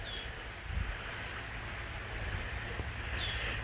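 Steady rain falls outdoors during a tornado storm, a continuous broadband hiss of drops with light spatters, fairly close and even in level throughout, with faint bird chirps in the background.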